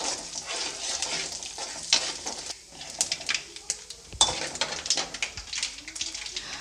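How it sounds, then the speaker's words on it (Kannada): Urad dal and cumin seeds frying in a pan, with busy crackling and a spoon scraping and clinking close by in irregular bursts throughout. "ಬೇಳೆನ ಒಂದು ಸ್ವಲ್ಪ ಫ್ರೈ ಮಾಡ್ಕೊಳ್ತೀನಿ"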